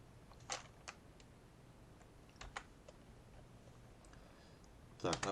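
Scattered keystrokes of someone typing JavaScript code on a computer keyboard, quiet and close, in short irregular bursts with a quicker flurry of clicks at the end.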